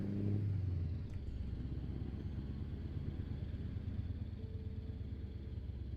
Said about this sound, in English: Very heavy on the exhaust note, so you chug along